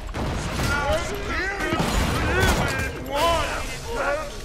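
Submachine-gun fire from a purple SMG in Borderlands 2 crackles in short bursts amid game effects, with people talking over the rapid shots throughout.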